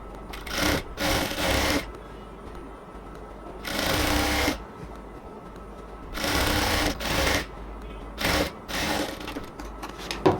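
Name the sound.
sewing machine stitching a salwar fold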